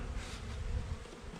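Honeybees at an open beehive make a steady, dense buzz that holds at an even level throughout, close and continuous with no talking.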